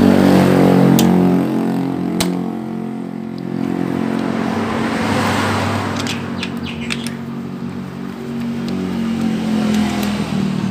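A Jialing motorcycle with a loose clutch nut is kick-started while the clutch slips: a loud, rough engine drone rises and falls throughout, with faint bird chirps in the background.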